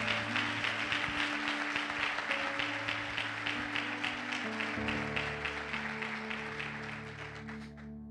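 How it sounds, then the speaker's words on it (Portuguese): A church congregation applauds at a Portuguese-language sermon, steady sustained clapping from many hands over a held organ or keyboard chord, tapering off at the end. "Você pode aplaudir o nome do Senhor?"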